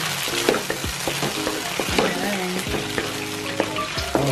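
Buffalo chicken wings sizzling in a hot pan as hot sauce is stirred in, steady frying hiss broken by repeated scraping strokes of a utensil against the pan, close and fairly loud.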